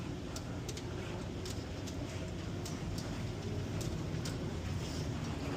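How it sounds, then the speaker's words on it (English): A low, steady rumble of a subway train passing at a distance, muffled and continuous with faint ticking overhead. "That's the subway."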